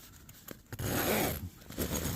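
Zipper sliders are drawn along the zipper track of a Onewind Penumbra hammock hot tent, with a few quick close-up zips and rustling fabric in between.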